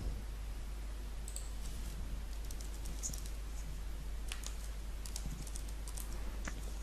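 Quick bursts of keystrokes on a computer keyboard, light clicks in short irregular runs with brief pauses, close and fairly quiet.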